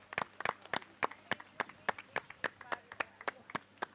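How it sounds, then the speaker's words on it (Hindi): An audience at a stage show about Dr. Bhimrao Ambedkar claps in a steady rhythmic beat to welcome the director onto the stage, a crisp even clap pattern with a faint murmur beneath. "उन्हें तो ज़ोरदार तालियों के साथ स्वागत कीजिए इम्तियाज़ पंजाबी जी का"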